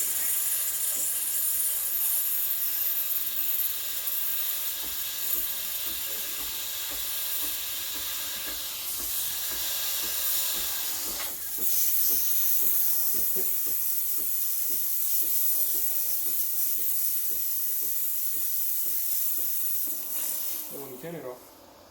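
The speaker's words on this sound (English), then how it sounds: "You just turn on the steam and wait" A steady, loud hiss of steam from the steam wand of a Breville Barista Express BES870 espresso machine runs almost unbroken, with faint clicks and rumbles beneath it and a brief change near the end.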